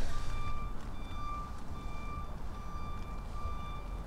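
A vehicle arriving at a house door sounds a steady series of evenly spaced electronic reversing beeps over a continuous low engine rumble, with no voices.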